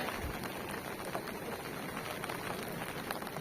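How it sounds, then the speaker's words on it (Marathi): Steady rain falls outdoors near a riverside fishing spot, a faint, even hiss of drops on surfaces with no clear breaks and no voices. "जबरदस्त आहे पाऊस आलाय"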